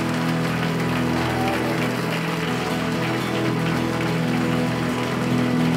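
Large worship congregation at a Korean healing service applauding in thanks to God, a dense, steady rain-like wash of clapping under sustained music, even and continuous throughout.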